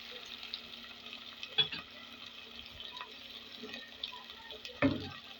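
Tomato paste sizzling softly with minced meat and onion in a pan, quiet and close, with a couple of louder scraping stirs.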